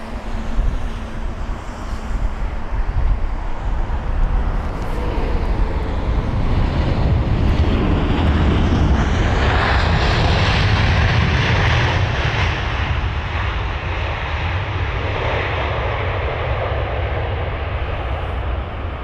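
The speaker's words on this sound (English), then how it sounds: "we've got the American 777-200, and this is the arrival from Miami" An American Airlines Boeing 777-200 arriving from Miami lands at London Heathrow, its loud jet roar swelling and sweeping past, then sustaining with wind buffeting the microphone.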